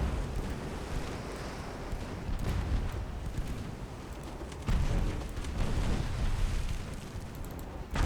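A torpedo slams into an enemy warship in the naval game UA: Dreadnoughts, heavy rolling explosions and a deep churning roar that surges sharply midway, loud and sustained with no talk.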